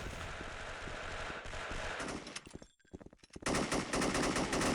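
Rapid automatic gunfire and explosions from an online FPS match in the Free-for-all mode of the mobile game SF Mobile (Special Force M Remastered), a loud dense barrage that drops out briefly mid-clip before resuming at full intensity.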